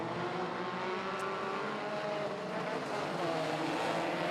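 Street stock race cars take off at the start under lights at Bunbury Speedway, a steady, fairly distant engine roar with overlapping tones rising slightly as the field gets away.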